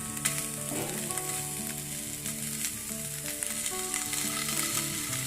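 Chicken fries in a pan with little oil, cooked South Indian style, giving a steady close sizzle with crackling pops throughout.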